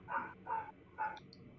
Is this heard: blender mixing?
no